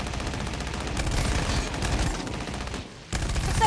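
Rapid bursts of automatic gunfire in the PvP shooter game Synced, sustained and fairly loud through most of the moment, with a brief drop near the end before the firing resumes.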